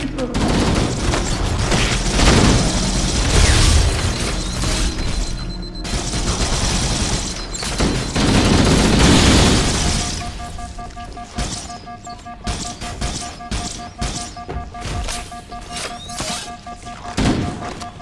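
Weapons fire against the Flood in the video game Halo CE: bursts of gunfire and rattling shots with thuds and mechanical clanks, loud at first and then more scattered, while a voice speaks over the action.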